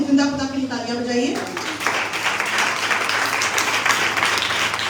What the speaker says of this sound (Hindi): उस जिंदा खुदा के लिए तालियां बजाइए।